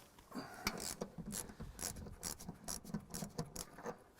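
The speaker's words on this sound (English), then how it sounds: "I'm going to have to go get a quarter drive to take these off" A quarter-inch drive ratchet works bolts off a Galaxie engine bay under the fender well and valve cover, giving quiet, rapid clicking pawl bursts in irregular runs, close and faint.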